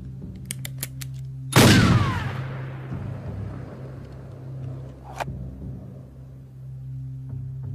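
A single loud revolver shot in a dubbed Western, one sharp close blast that rings out and echoes away over several seconds, with faint clicks before it and a brief metallic sound afterward.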